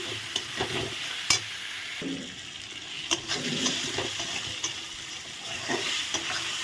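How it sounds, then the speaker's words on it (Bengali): Spice paste with Kashmiri chilli powder being sautéed in a pan for a chana dal dish, a steady sizzle with repeated scraping stirs and spoon clicks, close and alone. "দিয়ে ভালো করে এখন মশলাটা কষিয়ে নেব কষিয়ে নিলাম"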